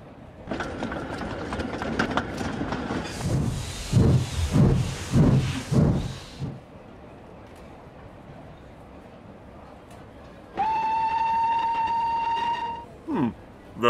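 A train runs with chuffing rhythmic bursts for several seconds, then falls quiet before a steady whistle blows clearly, followed by a short fading tail.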